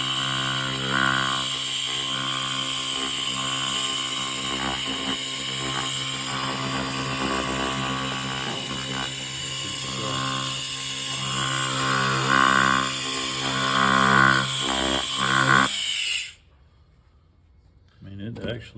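Laser rust removal machine firing at heavy rusty scale, a loud continuous buzzing whine with steady tones close by, then cutting off abruptly near the end.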